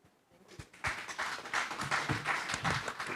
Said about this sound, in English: let's give applause to each of you for your valuable information, experience in these 2 days